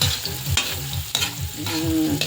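Chicken franks frying in a pan, loud close sizzling with scraping stirs and clinks of a utensil against the pan, without voices.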